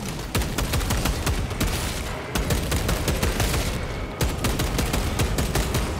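Relentless cannon and heavy weapon fire in Space Marine 2, a dense, loud barrage of overlapping blasts that barely lets up, with no talking.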